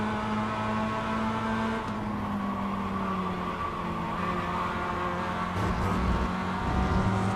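The engine of a Mazda Miata race car in the iRacing sim drones at a steady, near constant pitch, a buzzy tone that lifts slightly toward the end as it accelerates.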